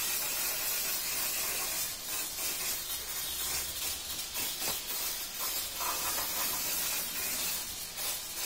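Aerosol Loctite surface cleaner sprayed onto motorcycle valve covers for an SR250 before painting, a steady close hiss running without a break.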